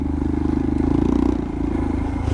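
A Royal Enfield Himalayan motorcycle with a budget Lextek exhaust, baffle in, idles with a steady low, throbbing rumble and even rapid pulsing, close by and alone.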